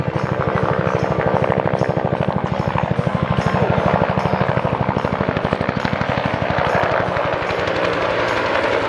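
A Cobra attack helicopter flies at the Hillsboro, Oregon airshow, its rotor beating a loud, fast, steady chop with a heavy engine roar that holds close and strong throughout, with no talk.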